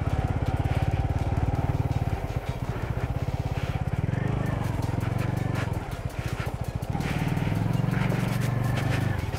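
A motorcycle is ridden along a road, its engine putting out a close, steady, throbbing putter that rises and falls a little with throttle throughout.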